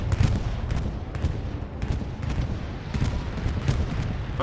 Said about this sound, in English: That was a trigger bombing run.